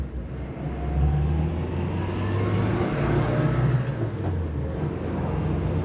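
Car pulling away and accelerating up to speed on a fresh tarmac 50 mph road, heard from inside the cabin as a steady engine drone with road rumble and rising gear-change swells, no voices.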